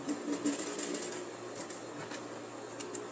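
A sewing machine stitches a pleat on tailored shorts, a quick even whirring patter of the needle running close by, fading to a softer hum with brief clicks.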